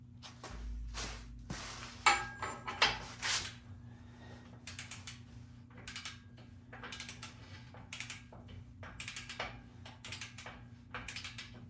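Torquing a ball joint on a Ford Super Duty truck to 35, with a run of rapid metallic ratchet clicks in short bursts, preceded by a few louder clanks and handling noises close by.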